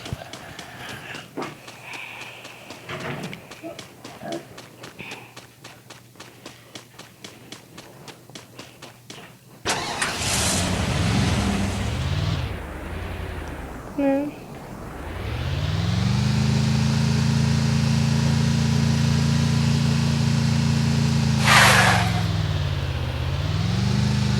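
A car engine in a video game revs loudly and close, its pitch climbing and holding steady as the vehicle drives off, after a stretch of quick footsteps and rustling.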